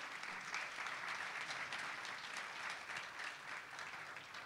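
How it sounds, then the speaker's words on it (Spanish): An audience welcomes a minister at a Buenos Aires presentation on redeveloping the city centre with steady, moderately distant applause, an even wash of clapping that lasts throughout without any talk. "un fuerte aplauso."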